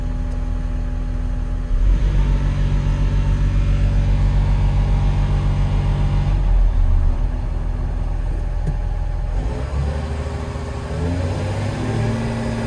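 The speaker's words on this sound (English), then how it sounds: "even when I'm revving the engine" A car engine with an AdBlue fault revs up and down several times, loud and close, settling back to a steady idle between pushes.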